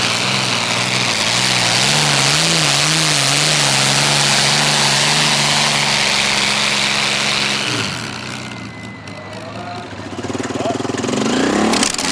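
A loud, heavy pulling tractor engine at a tractor pull roars steadily and revs with wavering pitch, then drops briefly before surging again, close and dominating the scene.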